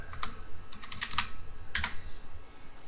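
Quick bursts of keystrokes on a computer keyboard, close and fairly quiet, arriving in two short clusters with a brief pause between, no voices.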